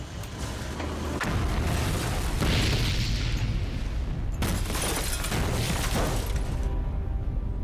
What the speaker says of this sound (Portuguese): Às 7h45, uma enorme explosão destruiu todo o prédio